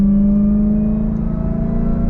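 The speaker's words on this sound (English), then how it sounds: "The whine of that supercharger." The supercharger of a 2024 Dodge Durango SRT Hellcat whines under acceleration, a loud steady tonal hum layered over a deep engine drone, heard close and continuous with no talk.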